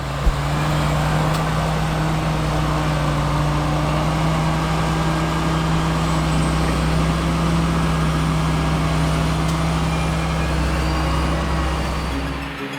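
Farm vehicle engines from manure spreader trucks and a compact Bobcat telescopic loader working on a slurry application job: a constant, heavy diesel drone with a deep steady hum, loud and close, with no speech.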